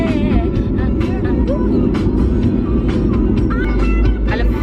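Small 1.2-litre car engine being floored, giving a steady, loud, close rumble of acceleration that holds throughout with a faint higher whine on top, no talking.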